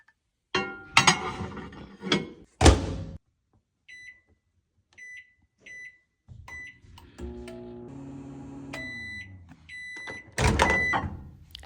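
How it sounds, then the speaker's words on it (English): Dishes clink and rattle, then a steady microwave hum runs for several seconds while a spring roll reheats, with a few beeps, ending with a door clatter. "Then you're going to microwave the spring roll for 45 seconds."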